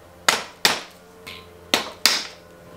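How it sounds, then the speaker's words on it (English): A mallet strikes the end of an Allen wrench set in a bolt on a RockShox bicycle fork, four sharp metallic knocks and one lighter tap spaced irregularly over a few seconds, close and clear with no talking. "you can put an Allen wrench into the bolt and hit the end of the wrench with the mallet"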